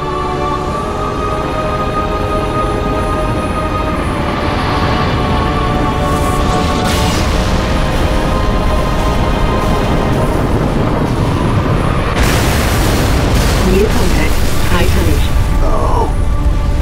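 Heavy MAC round strikes from an orbiting frigate in Halo: Reach, dense rumbling booms and blasts that build and swell into a loud, sustained barrage, with a bright explosive burst near the end, mixed with a cutscene score.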